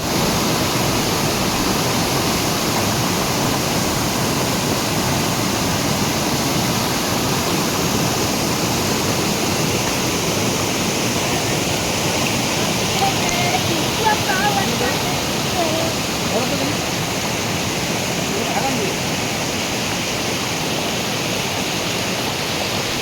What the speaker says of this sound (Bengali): চলো তোমাদের একবার জলটা দেখায় আওয়াজটা শোনায়